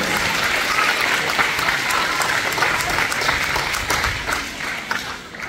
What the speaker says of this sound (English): Can you give her another round of applause?